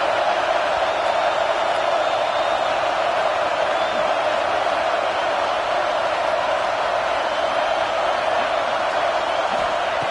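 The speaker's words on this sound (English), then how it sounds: "Third down and the crowd really getting into it." A stadium crowd in a college football video game, Tennessee versus Michigan in the playoffs, roars and cheers in a dense, continuous wash of sound that holds steady for the whole stretch.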